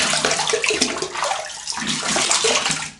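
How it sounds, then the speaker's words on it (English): Running water splashes steadily as a shaving razor is rinsed under a tap, a close, continuous broadband rush with slight surges, no talking. "Let me have a little rinse here."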